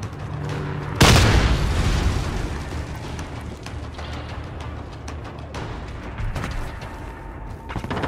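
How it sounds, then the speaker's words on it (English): A grenade explodes in Modern Warfare with a sudden loud, close boom, followed by a long rumbling tail and continuing gunfire and battle noise. "Grenade."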